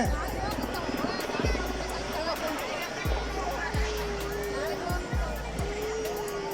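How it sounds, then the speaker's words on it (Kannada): A helicopter showers flowers over a crowd at a village temple fair, its steady rotor drone rising and falling overhead beneath someone talking over a loudspeaker and crowd murmur. "ಪುಷ್ಪವೃಷ್ಟಿ ಅಂದ್ರೆ ಹೆಲಿಕಾಪ್ಟರ್ ಮಾಡೋದ್ರಿ"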